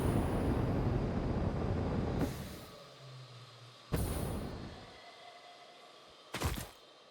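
Train in the video game Satisfactory, a dense rumbling roar of rolling rail cars that cuts off abruptly, followed by a few sharp thunks and short clattering bursts.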